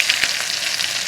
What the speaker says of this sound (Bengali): জিরে ফোড়ন দেবো। দুটো কাঁচা লঙ্কা ফেলে নিচ্ছি